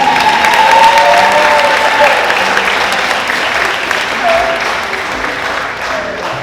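Sustained applause from a school audience at a McAuliffe farewell, a steady roar of clapping with scattered voices mixed in, easing gradually toward the end.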